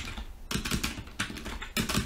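Keys are tapped quickly on a computer keyboard while Morse code is entered into a text input. The close, crisp clicking comes in three or four short bursts with brief pauses between them.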